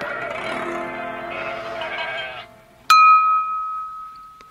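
Sheep bleat in a Swedish children's story, a series of close wavering bleats over gentle harp-like music, followed by a sharp bell-like ping that rings out and fades.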